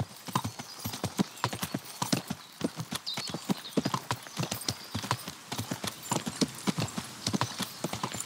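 Horse hooves clip-clopping in the game Kingdom Come: Deliverance, in a quick steady rhythm, close and clear, continuing throughout.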